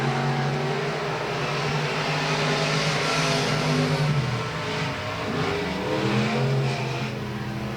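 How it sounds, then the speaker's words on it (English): Race cars lap South Texas Speedway in a late-race run, their engines a loud, continuous roar with rising and falling pitch as the field sweeps past, no one speaking over it. "You can see the drivers kind of splitting the racetrack as they go around it"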